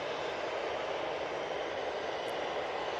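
An ATR 72 turboprop airliner touches down at Manchester Airport, heard as a steady, broad roar from some distance with no other sounds.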